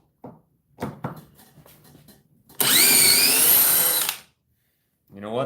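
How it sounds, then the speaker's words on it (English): DeWalt DCD1007 cordless drill on speed 3 in plain drill mode with a fully charged 5 Ah pack, a loud steady whine for about a second and a half, with short bits of talk before it and just after. "It's on hammer drill. Let me put it on drill."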